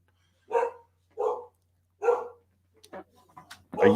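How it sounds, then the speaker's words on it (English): A dog barks three times in a steady rhythm, close by, followed by a few softer yips and a final louder bark. "these dogs don't bark all day, and then I go live and they start barking."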